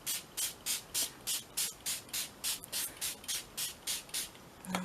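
Paint sprayed onto mixed media paper in a craft session, heard as a steady series of short, even hissing bursts, about fifteen of them, close and fairly soft, with no talking.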